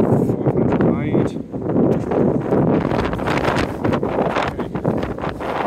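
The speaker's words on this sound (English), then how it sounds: "A bit windy out here." Gusty wind roars across the microphone in heavy, uneven blasts, with a voice speaking briefly beneath it.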